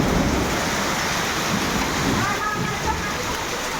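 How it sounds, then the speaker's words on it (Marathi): A hailstorm pouring down during hot summer weather in a dense, unbroken roar of pelting ice, loud and constant throughout. "भयंकर कडाक्याच्या उन्हाळ्यामध्ये अक्षरशः गारांचा पाऊस पडतो आहे"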